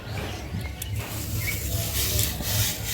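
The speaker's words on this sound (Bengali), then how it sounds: "এগুলো আবার কিন্তু হাতের সাহায্যে একটু ঘষে ঘষে বীজগুলো আলাদা করব।" Dried basil seed heads rubbed between the hands to free the seeds, giving a close, soft, continuous dry rustling and scratching with small crackles.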